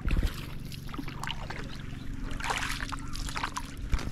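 Rowboat being paddled across a coastal creek, water sloshing and dribbling off the oars in a steady close wash with a few brief knocks.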